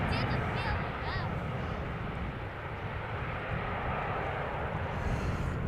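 An airliner landing at Schiphol makes a sustained, distant jet roar as its thrust reversers are used, with a brief whine near the start and a steady low rumble beneath.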